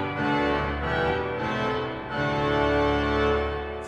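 Reed stops sound together on a Hauptwerk virtual organ sampled from the Predigerkirche in Erfurt, Germany: a loud, dense, buzzy sustained chord with slowly shifting harmony and no voices.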